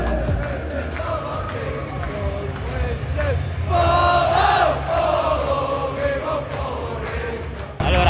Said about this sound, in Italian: quando cantano fanno un casino, tutto lo stadio, atmosfera a livello di rumore clamoroso.